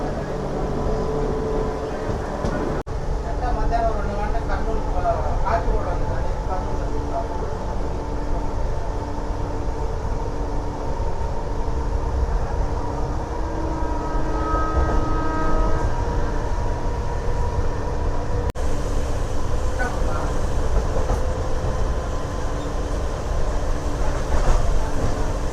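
A MEMU passenger train runs between Renigunta and Kadapa in rain, heard from inside as a steady, loud rumble of wheels and carriage noise with a faint horn-like tone partway through.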